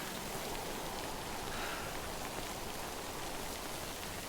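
Steady rain pours down in the video game Death Stranding, a dense, even hiss of falling water that runs unbroken and alone throughout, with no voices over it.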